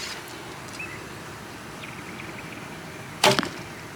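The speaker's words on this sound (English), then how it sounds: "I'm going to shoot those two arrows one more time" Arrows loosed from a lightweight supercurve bow at a normal draw: a single sharp, loud snap of the string and arrow release rising out of quiet outdoor background, with no talking.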